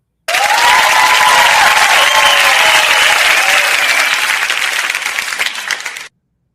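Loud, sustained applause from a crowd at a livestream event, dense clapping filling the whole stretch alone and fading slightly toward the end before stopping abruptly.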